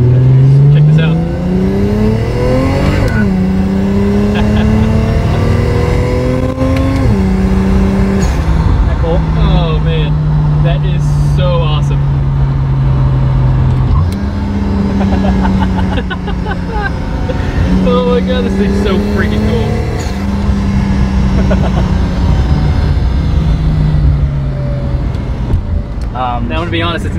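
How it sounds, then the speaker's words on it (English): A sleeper car's engine revs up and down repeatedly, rising and falling in pitch with a steady, loud throaty drone, while people talk over it. "just hearing the noises come from this car"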